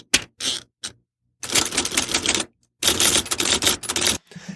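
Bursts of rapid mechanical key strikes from a FreeWrite Smart Typewriter come up close, with short clicks at the start, then two longer dense runs of typing separated by brief silences.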